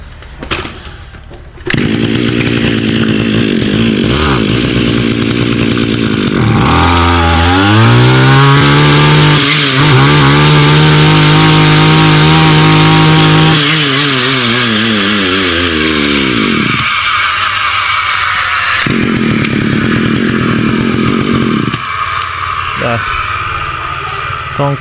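Small petrol grass trimmer engine, a two-stroke unit, pull-started then running loud and close, revving up and down in a high buzzing whine with uneven throttle bursts throughout.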